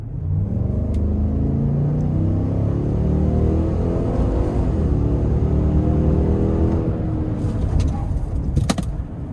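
A Cadillac Escalade's 6.2 V8 pulls hard under acceleration, a loud sustained engine roar with rising pitch heard from inside the cabin, steady throughout.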